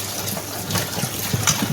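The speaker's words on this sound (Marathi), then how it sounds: "ते मस्त घेऊन धुवून घेऊया मस्त चांगल्या पाण्याने धुवून घेऊ" Goat mutton is washed with water, a continuous close splashing and gushing with sloshing bursts that ends abruptly, and no one speaks.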